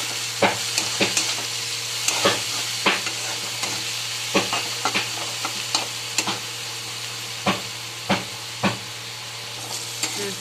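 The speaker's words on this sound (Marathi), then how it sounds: "आता हे सगळं परतून घेऊ" Onion, tomato, turmeric and salt sauté in a pan under a constant sizzle, with a spatula scraping and stirring in regular strokes close by.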